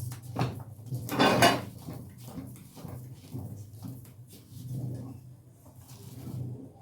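Thick banku is turned and mixed in a pot, giving soft irregular scrapes and knocks of a spoon against the metal, one louder clatter early on and quieter stirring thuds after.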